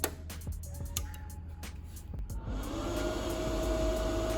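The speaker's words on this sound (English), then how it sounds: "once the machine boots up, you'll hear the fan kick on" Cooling fan of a Bestarc MIG 145 welder starting up after a few ticks and clicks, rising into a steady, close whooshing whir that keeps running alone.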